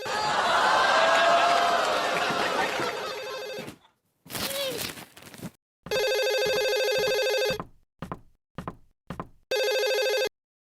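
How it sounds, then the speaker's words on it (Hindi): A landline telephone rings downstairs in a household comedy scene, first under a loud voice, then alone in a string of repeated electronic bell bursts with short gaps. "घंटी बज रही है नीचे, फोन की घंटी।"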